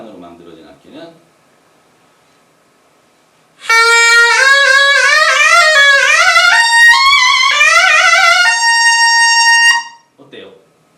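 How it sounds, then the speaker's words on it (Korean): Ebony wood piri, a Korean double-reed pipe, plays a loud, sustained, buzzy melodic phrase for about six seconds, with brief speech before and after it. "이번에는 흑단으로 만들어진 악기는"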